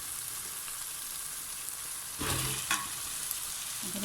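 Potatoes frying in a pan with cooked spices, onions and tomatoes, a steady hiss broken by a burst of louder sizzling and a couple of stirring clatters midway.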